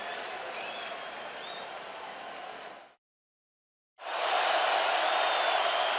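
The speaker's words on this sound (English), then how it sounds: "Crowd roaring." A football stadium crowd in Seattle roars loudly and steadily at an NFL game, cuts to silence for about a second, then returns even stronger.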